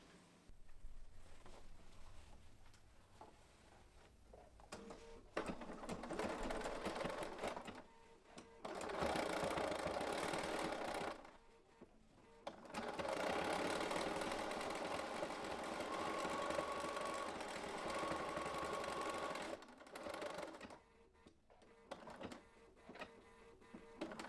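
Overlock sewing machine stitching the side seam of a pair of panties, heard as a close, steady high-speed whirring run in two long stretches with short pauses and quieter handling between.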